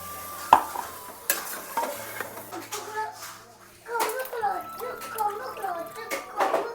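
Water poured into ground chicken curry paste for a country chicken curry, splashing and stirring close up in a pot with clinks and sizzling, while a person talks over it.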